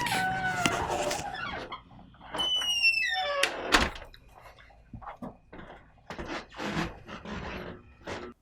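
A door opening and closing as people head out, giving a few clunks and creaks mixed with scattered handling noises, close and moderately loud, with no talk.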